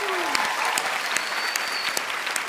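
A studio audience on a TV talent show's blind auditions claps and cheers in a short burst of dense applause with sharp individual claps.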